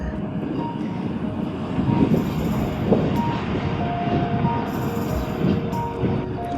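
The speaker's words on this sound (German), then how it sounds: "Jetzt kommt gerade der Zug" Train pulling into the Bernina Pass station in the Swiss Alps, a loud continuous rumble of wheels on rails with rhythmic clacking and faint metallic squeals, heard close and steady.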